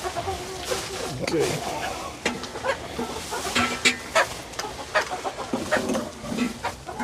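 Silkie chickens and a rooster cluck and murmur close by in a flooded coop during a winter storm, mixed with a person talking and some splashing and rustling.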